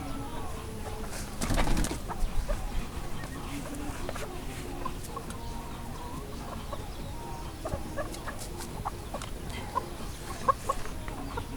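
A Boston Roundhead stag chicken clucks and stirs while being bathed, with a brief louder scuffle early on and steady low background noise throughout.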